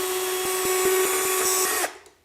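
A driver spins out T30 Torx screws from a DeWalt DW735 planer cutter head, a steady close whine with rhythmic ticking, cutting off abruptly at the end.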